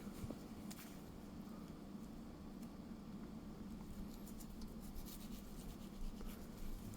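A knife trims fat from raw beef ribs being prepared for smoking, giving soft, steady scraping and rubbing strokes with faint occasional scratches over a low constant background hum, quiet and close with no talking.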